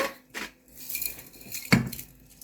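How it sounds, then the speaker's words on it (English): A salt grinder that is running low makes a few short, scratchy grinding and clinking bursts while food cooks. The sounds are close and come with quiet pauses between them, and no one speaks. "Oh, I'm running out of salt by the sound of my grinder."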